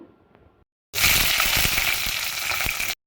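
Mustard seeds, cumin and curry leaves hit hot oil for upma, bursting into a loud, dense, steady sizzle with crackling pops that runs for about two seconds after a short quiet lead-in.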